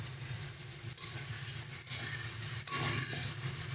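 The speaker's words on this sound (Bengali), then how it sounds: "দিয়ে দিচ্ছি পরিমাণ মতন জল।" Water is poured into a pan of softened tomatoes for a morola fish curry, giving a loud continuous sizzle and hiss with a few brief dips, and no talking.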